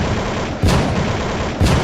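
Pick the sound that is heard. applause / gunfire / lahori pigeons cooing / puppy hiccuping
gunfire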